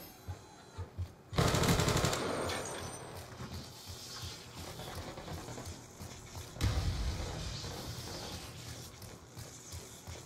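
A sentry gun in Black Ops 2 opens up in a sudden loud burst of rapid automatic fire, tails off, then rattles again in a second heavy burst, preceded by a few quieter isolated shots.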